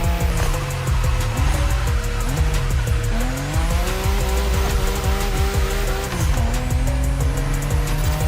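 Nissan Skyline R32 drifting in the racing game The Crew Motorfest, a loud engine note rising and falling through gear changes over sustained squealing tyres, continuous and close for the whole stretch.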